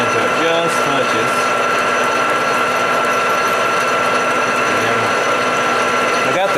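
A lathe machines bronze thrust washers for a 1980 Can-Am MX-6 125 restoration, a steady mechanical whir with a constant tonal hum and faint ticking, running continuously close by without any talk.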